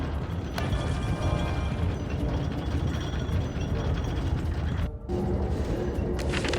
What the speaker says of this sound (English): You put it in place and hear the expected clank of metal and whirring gears.